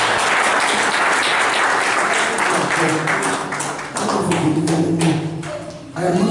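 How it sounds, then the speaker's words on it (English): Congregation clapping in a church, a dense wash of applause with some rhythmic claps and thuds, loud and steady before easing slightly near the end. "Clap for Jesus Christ."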